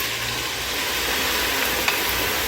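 White wine poured into a hot pan with gochujang over a medium-high burner, giving a steady, loud, close hiss and sizzle throughout with faint stirring, no speech.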